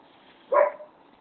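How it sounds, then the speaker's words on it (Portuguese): A single short dog bark sounds once, somewhat distant and muffled, against a quiet background. "agora meu cachorro começou a latir"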